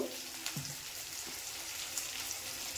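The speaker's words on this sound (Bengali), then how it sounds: "এদিকে পেঁয়াজটা লাল লাল করে ভেজে নেবো।" Onions fry in a pan with a faint, steady sizzle and soft crackle, heard quietly and close with no voices over it.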